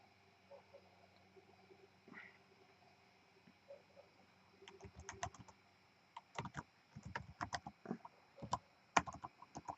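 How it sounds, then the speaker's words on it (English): Someone types on a computer keyboard, sparse keystrokes at first, then bursts of rapid clicking that grow denser, fairly quiet and close with no talking. "I'm getting tired of typing this down."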